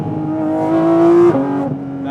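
A Porsche Cayman GT4 RS engine screams high in the upper rev range, its tone climbing and holding loud and close before a quick shift drops the pitch and it pulls again.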